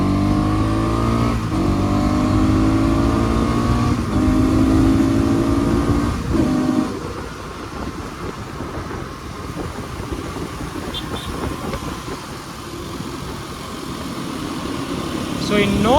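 A 2024 Bajaj NS 200 motorcycle engine revs, its pitch climbing steadily through the power band, then drops into a rougher, steady running drone during a city ride.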